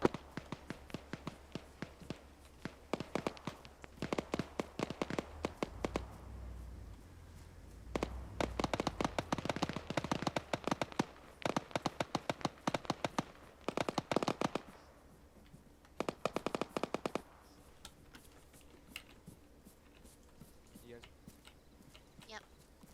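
Crackling bursts of small arms fire come in rapid volleys from an Arma 3 battle, close and sharp with gaps between, while voices talk throughout.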